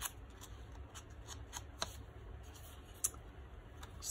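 Distress ink is dabbed and rubbed along the edges of journal paper, making soft, quiet scuffing and tapping, with a few sharper taps throughout. No one speaks.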